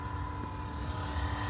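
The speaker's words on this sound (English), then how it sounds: "AC compressor" A car's AC compressor runs as a steady, close mechanical drone with a low rumble and a constant whine, holding even throughout.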